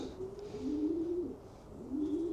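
Racing pigeons in a loft give soft, low, close cooing calls in two rolling phrases with a brief pause between, over faint background hiss.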